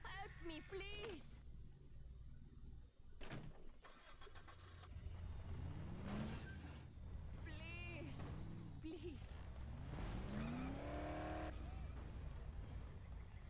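A car engine in the video game Dead Island starts and revs repeatedly, rising and falling in pitch as it drives, while a person talks over it throughout.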